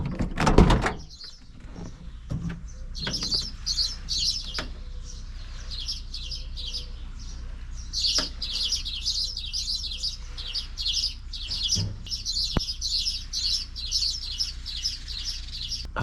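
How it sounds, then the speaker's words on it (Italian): Small birds chirp and twitter busily in a palm tree beside the sea on a Greek coastline, a steady bright chatter of many calls over soft ambient background, with a few thumps and knocks early on. "Abbiamo un sacco di uccellini sopra questa palma"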